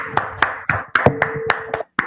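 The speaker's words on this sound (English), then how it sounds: "clap it up. Clap it up." A small group clapping hands at a brotherhood class gathering, a handful of sharp, uneven claps in quick succession, close and distinct with brief gaps.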